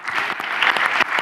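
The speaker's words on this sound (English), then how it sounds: "A real clap for that." Audience applause at a talk event, a brisk burst of many hands clapping close and loud for just over a second, with no voices over it.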